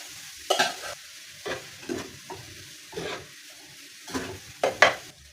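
Rice being stir-fried in a pan with soy sauce and beef chili, a spatula scraping and tossing in irregular bursts over a soft sizzle, close and moderately loud.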